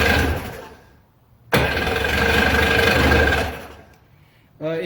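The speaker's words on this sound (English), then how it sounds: "Engine rattled a little there." An old WaveRunner engine that sat unused for 19 years cranks over, a loud rough mechanical churning and rattling for about two seconds, then stops, with a brief second crank starting at the end.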